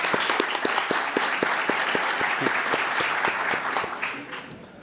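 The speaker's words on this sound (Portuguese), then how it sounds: "Uma salva de palmas aí para o doutor Eric." Audience at a digital law congress lecture applauding an arriving speaker, steady close clapping from a modest crowd with individual claps distinct, fading toward the end.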